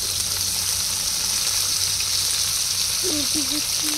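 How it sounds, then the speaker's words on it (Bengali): Chopped tomatoes, green chillies, garlic and onion go into hot oil for a fish curry, giving a dense, constant sizzle with a brief tonal squeak near the end. "এবার মাছের ঝাল রান্নার জন্য তেলের মধ্যে দিয়ে দেবো কেটে রাখা টমেটো, কাঁচা লঙ্কা, রসুন, দিয়ে দেবো পেঁয়াজ কুচি"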